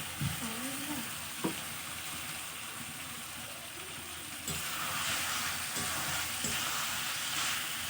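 Fried potato pieces tumble into a pan of mutton curry sizzling in released oil, giving a steady broadband sizzle with scattered thuds and clinks. Partway through, the frying swells louder as they settle in, and no one speaks.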